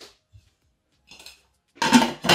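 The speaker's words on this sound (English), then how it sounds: "Put the lid on it." A lid goes onto a cooking pot with a few soft metallic taps, then a louder clatter and rattle as it settles, heard close up in a quiet kitchen while Nigerian ugu vegetable soup cooks.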